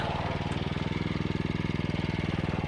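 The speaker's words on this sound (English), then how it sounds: "I'm mowing my back lawn shorter this year" A lawn mower cutting the back lawn gives a steady, rapidly pulsing engine drone, close and continuous throughout.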